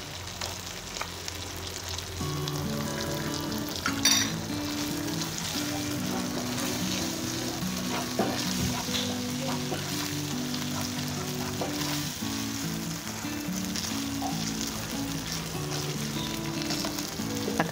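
Minced beef meatballs frying in tomato sauce bubble and sizzle steadily at close range, with soft scraping and occasional clinks as they are stirred in the pan.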